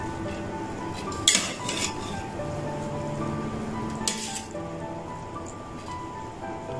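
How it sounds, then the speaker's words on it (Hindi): Fried rice being mixed in a pan after black pepper is sprinkled over it, with steady scraping and clinking of a utensil against the pan, two sharper clanks standing out, no talking. "फिर से मिक्स करेंगे"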